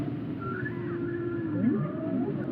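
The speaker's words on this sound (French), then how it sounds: "une baleine, quand elle chante sous l'eau, on l'entend à des kilomètres" Eerie whale song with rising and falling moans and whoops, muffled and resonant as if heard underwater, against a low steady rumble.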